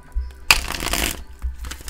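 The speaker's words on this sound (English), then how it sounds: "All right, last shuffle." Tarot cards being shuffled by hand in a short, close burst of crisp riffling and rustling, with a couple of softer taps before and after, no voices.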